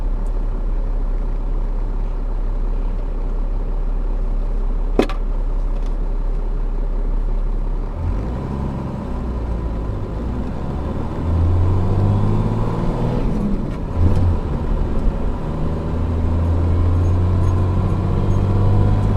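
A 12-valve Cummins diesel fitted with an AFC runs at wide open throttle, a deep engine drone that swells louder in the second half with rising low rumbling tones, heard close with no talk.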